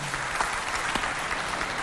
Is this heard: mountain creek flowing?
no